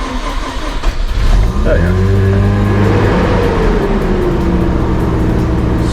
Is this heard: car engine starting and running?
yes